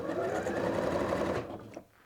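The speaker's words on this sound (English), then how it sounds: "This is such a good sewing machine" Sewing machine running a long straight stitch along a seam in a knitted sweater being steeked, a fast, even mechanical whir close to the microphone that slows and stops near the end.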